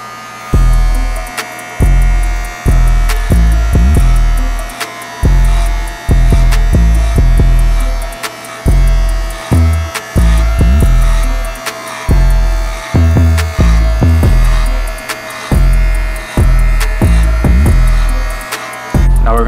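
Electric hair clippers fitted with a number one guard buzz loudly and close while cutting hair for a self fade, the steady motor hum pulsing in short rhythmic bursts throughout.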